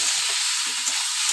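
Grated taro frying and being stirred in a pan, a steady dense sizzle with faint scraping touches underneath, continuous and close, no voices.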